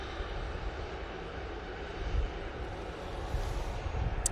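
Jet2 passenger plane arriving at Manchester Airport on a positioning flight from Edinburgh, a steady broadband engine roar holding throughout at moderate distance and swelling slightly near the end, with no talk.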